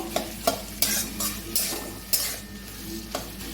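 Prawns and taro stolons sizzle in a pan while a utensil stirs them, with repeated scraping clatters at an irregular beat over a constant close frying hiss.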